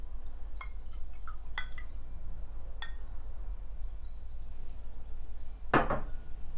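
A drink poured into a half-full glass, with a brief burst of splashing liquid near the end after a few light clinks and taps, all over a steady low background hum.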